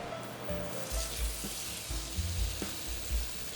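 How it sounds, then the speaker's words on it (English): Marinated meat sizzles and fries in hot oil in a pan over high heat, a steady crackling hiss with soft stirring and tossing thumps throughout, close and moderately loud with no talking. "Heat up some more oil set on high heat, and then we'll add our marinated meat"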